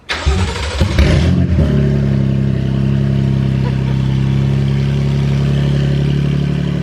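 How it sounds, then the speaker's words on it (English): A BMW E92 M3 V8 with open headers cranks and fires up close by, flaring loudly before settling into a raw, rumbling idle. "start up Greg's car with open headers"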